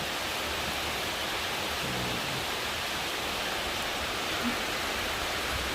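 Steady rain pouring outdoors while a baby elephant plays in it with its mother, a dense even hiss throughout with no voices.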